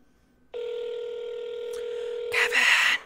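A phone line gives a steady, sustained ring tone for about two seconds, followed by a brief, brighter burst of dial tones while the call to Kevin waits to be answered.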